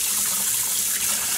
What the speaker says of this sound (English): I'm actually gonna just let water run over that yellow section